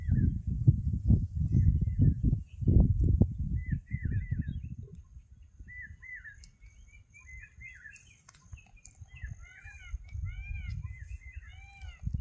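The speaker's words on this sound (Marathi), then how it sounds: "आता मस्तपैकी मोराचा आवाज आला" Low voices murmur at first, then a series of short, nasal, meow-like peacock calls sound at a moderate distance, repeating over a quiet background.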